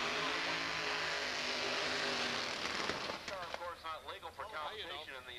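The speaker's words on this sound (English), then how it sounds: "Sounded like a blower backfire there" A blown Pontiac Firebird drag car with a Rodeck motor idles roughly at the line at a race fuel shootout, then a sharp loud blower backfire bursts out, followed by uneven popping and sputtering as talk runs over it.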